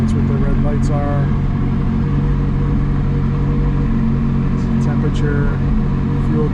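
The engine of a 2018 McLaren 570S Spider idles steadily just after start-up, a low continuous rumble filling the cabin while someone talks over it and a couple of brief chimes sound.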